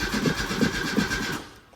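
A Peugeot 309 GR engine cranks on its starter but fails to catch: about four rhythmic, close turnover pulses, then the cranking stops and fades.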